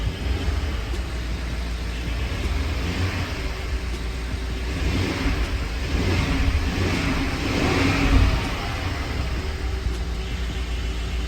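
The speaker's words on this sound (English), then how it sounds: "With a little bit of a rev." A crashed BMW 550i's engine runs, then revs up briefly and settles, a rough mid-pitched drone that swells toward the end over steady noise.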